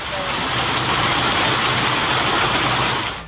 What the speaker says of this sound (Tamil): கிருஷ்ணகிரி மாவட்டத்தில் சூறாவளி காற்றுடன் பலத்த மழை பெய்ததால்